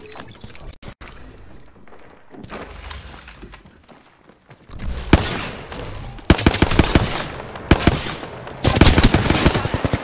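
Rapid automatic gunfire bursts in a shooter video game, starting sparse and distant, then growing loud and dense in several sustained volleys over the second half, with mechanical clatter between bursts.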